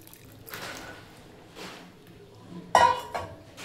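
Tamarind juice pours into a pot of cooking dal with one brief splash and a clink of the vessel, following faint, scattered kitchen clatter.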